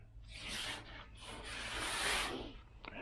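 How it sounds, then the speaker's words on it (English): A dual-action sander working 80-grit paper over the body panel of a 1978 Chevy Nova in a garage, close and steady, with swelling and fading raspy passes and a short knock near the end. "I'm just going to DA this down with 80 grit"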